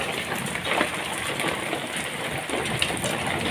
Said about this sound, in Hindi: आ गई हूँ छत पर और पड़ रहे हैं ओले।